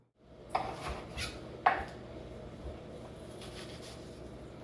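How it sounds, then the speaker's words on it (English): Onions being cut with a knife for vegan Jamaican stew peas: two distinct chopping strikes on a board, close and fairly quiet, separated by about a second of soft kitchen room noise. "so I'm cutting up some onions right here"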